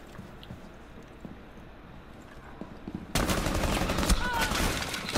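Automatic commando rifle fire in the video game Rainbow Six terrorist hunt, a sustained loud burst beginning abruptly after quieter background sounds, with people talking.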